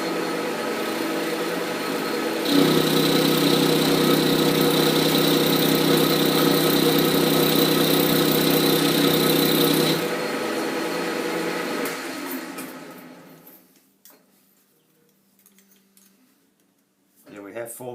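A Bridgeport milling machine bores a part, a steady motor drone with a strong hum that swells louder for several seconds, then fades out. Brief sounds near the end follow it.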